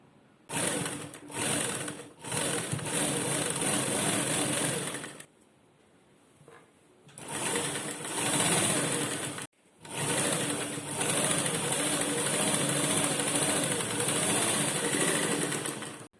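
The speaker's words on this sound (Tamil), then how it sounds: "இந்த பட்டியோட எண்டில் ஒரு தையல் போட்டு வந்துடலாம்" An electric sewing machine stitches a lined blouse, running in long, loud, steady whirring bursts with a few brief stops and one longer pause, close up and with no talking.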